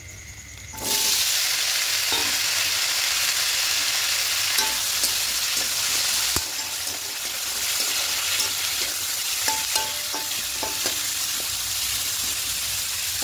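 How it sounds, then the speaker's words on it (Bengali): Chopped pumpkin with green chilli frying in a pan for a vegetarian pumpkin chhechki, a steady loud sizzle starting after a second with occasional scraping stir clicks, no talk. "এবার এখানে কুমড়োটা দিয়ে দেব।"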